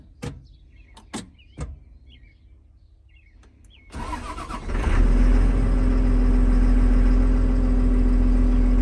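A car engine cranks and catches with the key on during work on a brake pressure sensor, then settles into a loud, steady idle after a few faint clicks.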